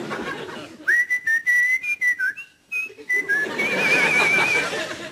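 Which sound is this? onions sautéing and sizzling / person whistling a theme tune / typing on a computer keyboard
person whistling a theme tune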